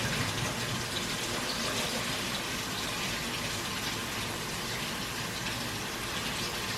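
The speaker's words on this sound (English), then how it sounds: "now I'm gonna run the hot water like so" Hot water runs from a tap to fill DreamStation Auto CPAP parts for cleaning. The rushing, splashing flow is steady and continuous throughout, close by and unaccompanied by talk.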